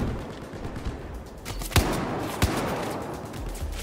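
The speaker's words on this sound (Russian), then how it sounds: "Видите, там кто-то стреляет, да?" Battlefield 4 gunfire crackles in the distance as a few sharp reports over a steady wash of battlefield ambience, with no one speaking.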